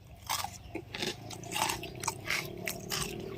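Crunchy bites into a Nims crispy choco tub snack, several sharp crackling crunches and chewing close to the mic at an uneven rhythm, fairly quiet, with no speech.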